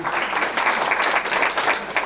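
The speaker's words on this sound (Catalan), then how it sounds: "un aplaudiment per aquesta noia" Steady applause from a crowd at a food and health fair, sustained and moderately loud, with faint voices mixed in.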